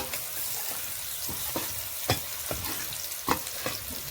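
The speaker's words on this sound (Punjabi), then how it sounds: "ਅੱਜ ਲਸਣ ਤੇ ਪਿਆਜ਼ ਦਾ ਤੜਕਾ ਲਾਇਆ" Garlic and onion tadka crackling in a pan: a steady, fairly quiet sizzle broken by several sharp pops and stirring clicks, heard close with no talking.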